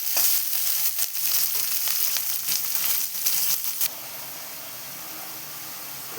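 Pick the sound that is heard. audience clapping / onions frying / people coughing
onions frying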